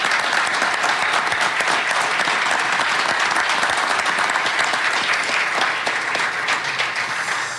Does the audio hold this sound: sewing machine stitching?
no